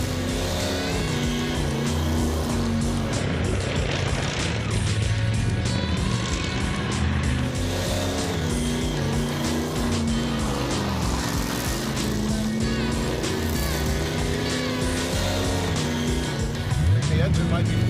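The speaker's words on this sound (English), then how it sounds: "It's already missing. Yeah, it's misfired." Ford Thunderbird engine running rough with a misfire, a loud continuous uneven drone with irregular stumbles, heard up close while people talk over it throughout.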